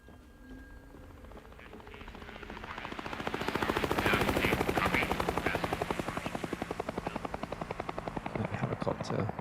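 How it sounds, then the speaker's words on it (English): A helicopter in the video game Hell is Us swells in from a distance, its rapid rotor chop growing loud and close, then easing slightly as it passes, with faint rumble underneath. "A helicopter swooped by."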